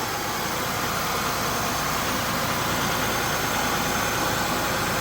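A Buick LeSabre fitted with new spark plug wires runs at a steady idle. The loud, even engine hum is broadband and holds without change throughout, with no talking.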